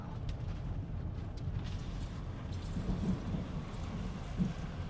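Thunder from a cloud-to-ground lightning barrage near a tornado in Menard, Texas, heard as a continuous low rumble with a few sharper cracks and swells amid rain-like hiss, moderately loud and without talk.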